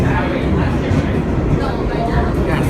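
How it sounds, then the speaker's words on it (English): A New York City subway train made up of BMT/BRT Standard cars starts moving, producing a loud, steady rumble of motors and wheels heard from close by. "This train begins like this"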